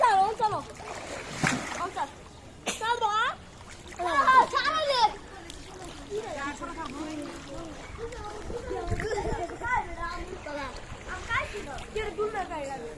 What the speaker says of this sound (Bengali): আরে পানি দিচ্ছ কেন?